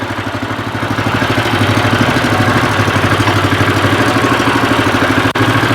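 Walk-behind tractor (motoblock) engine idling at lowered revs, a loud, close, steady rhythmic chug with a clattering mechanical texture and a brief click near the end.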